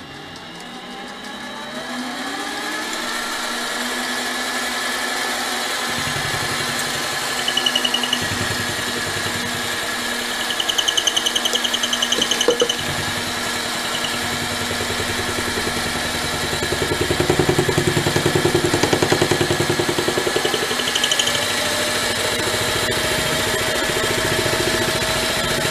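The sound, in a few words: mini lathe running at about 860-870 RPM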